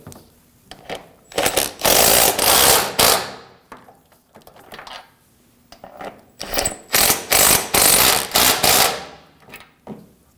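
A ratchet snugs down bolts while the front lip is installed on a 2009-2014 Ford F-150 3.5L V6, giving loud, close bursts of rapid clicking separated by short pauses, with no talking.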